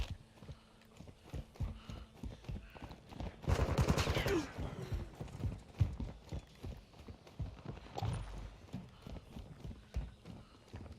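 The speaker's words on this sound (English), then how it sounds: "Hostile mortar strike near your position." Mortar strike explosions in a video game land in a burst of heavy booms and rattling impacts midway, with scattered thumps and clatter before and after.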